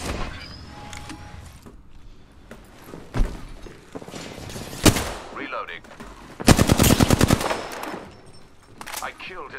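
Video game shooter combat with scattered single gunshots and a loud rapid automatic burst near the end, mixed with players talking and other effects.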